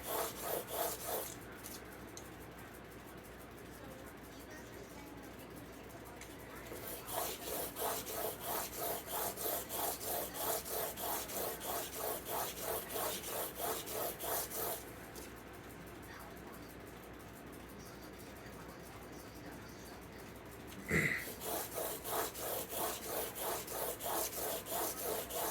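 Broadhead edge being polished by drawing it back across cardboard, producing repeated rhythmic scraping strokes in long runs separated by short pauses, close and moderately quiet, with one sharper knock partway through.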